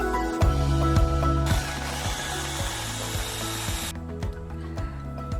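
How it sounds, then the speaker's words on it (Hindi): A mixer grinder blends onion, ginger, garlic and green chilli into a paste, a loud steady motor whir with rattling blades and shifting pitch as the load settles, running alone throughout. "इसको मैं ग्राइंड करके इनका पेस्ट बना लेती हूँ पहले।"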